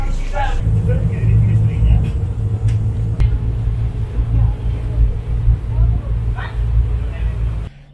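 A car pulls away at the start of an Italian road trip, its steady low engine rumble and road noise holding throughout, with a few faint clicks and bumps, until it cuts off near the end.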